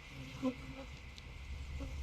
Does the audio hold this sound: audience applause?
no